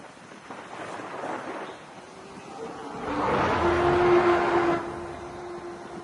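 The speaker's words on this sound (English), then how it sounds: "the other one is trees falling down with a roar at the end" Battlefield 4 dinosaur easter egg sound: a low rumbling crash of trees falling swells up, then a long deep roar-like tone rings out near the end, loud and alone.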